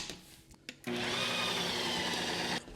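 A Ninja Creami machine mixes add-ins into coffee fudge ice cream, giving a steady, loud motor whir. It starts abruptly after a few faint clicks, holds evenly for about two seconds, then cuts off.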